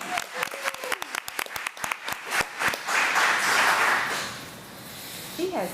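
Audience applause and cheering for an elementary school principal at a school board meeting, starting with scattered distinct claps that swell into a full burst of clapping and cheers, then fade, with voices underneath.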